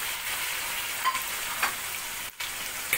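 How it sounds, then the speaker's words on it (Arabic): Chicken pieces fry in melted butter in a pot, giving a dense, even hiss of sizzling that runs throughout, with a few faint stirring touches and one brief dip in the sound, close by and with no talking. "هناخد 50 جرام زبدة هنسيحهم بالشكل ده، وننزل بالفراخ"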